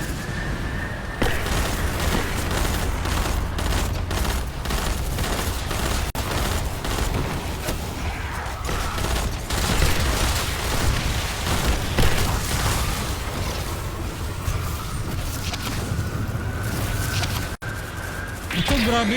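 Gunfire rattles through a Destiny 2 Guardian Games fireteam match, with dense bursts and booms forming a continuous loud barrage under steady game noise while a voice talks over it.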